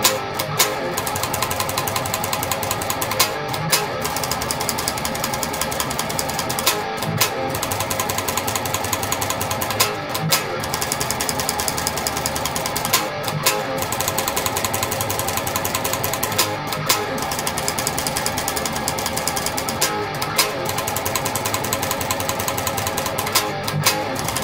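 Fast-picked thrash metal riff on a heavily distorted electric guitar, a relentless stream of tight, chugging notes broken by brief regular pauses, loud and dense with no talking.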